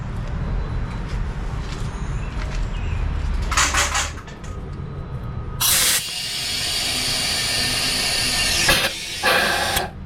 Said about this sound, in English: we're going to add some air to this, and we're going to watch in this bowl and see if there's any air coming up